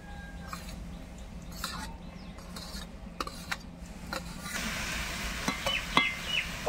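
Chicken and pre-fried lotus stems being stirred and scraped in a hot pan, with a faint sizzle and soft spatula or utensil taps that grow slightly busier toward the end; no talking.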